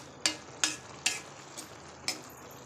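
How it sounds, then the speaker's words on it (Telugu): Ridge gourd and meal maker curry bubbles in a pan on high flame, with five sharp clinks or stirring taps spaced about half a second apart over a quiet simmering hiss. "ఇదిగోండి ఉడుకుతుంది"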